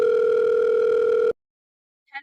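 An outgoing phone call sounds as a loud, steady electronic tone for just over a second. It cuts off into silence, and then a short burst of a voice follows.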